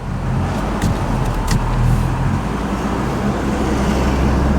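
A heavy-duty dually pickup truck drives along with a steady, loud low engine drone and road rumble heard from inside the cab, plus a few faint clicks and rattles.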